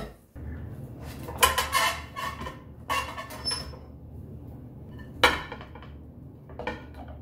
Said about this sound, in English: I'm gonna take the bread out of the oven.